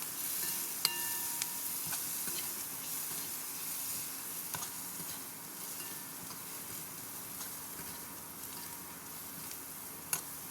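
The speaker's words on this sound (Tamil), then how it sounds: "கொஞ்சம் தனியாத்தூள், மிளகாய் தூள் போட்டுக்கலாம். கொஞ்சம் நல்லா கலந்து விட்டுப்போம்." Coriander and chili powder sizzling in a pan as they are mixed in, a faint steady frying hiss with scattered light clinks and taps of a utensil against the pan, close and quiet, with no voices.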